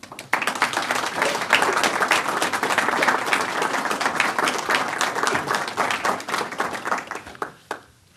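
An audience at an evening lecture welcomes Dr. Charles Trimble with sustained, dense hand clapping from a full room, steady for several seconds before fading out with a few last claps.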